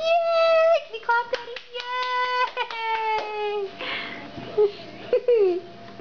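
A few sharp hand claps land near a small child's sustained, tonal crying and whimpering at home; the claps are brief and partly masked by the wailing voice.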